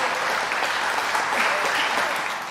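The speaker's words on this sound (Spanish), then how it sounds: "un aplauso, sí, para todas y para todos" Steady, dense applause from an audience at a special presentation in the Buenos Aires city legislature, loud and continuous throughout without pause.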